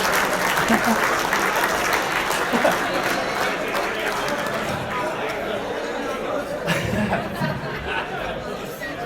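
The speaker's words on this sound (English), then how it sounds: "please put your hands together for Mr. Rick Roberts" A live audience applauds steadily as a speaker is welcomed onto a stage, the clapping dense and sustained throughout with some chatter mixed in.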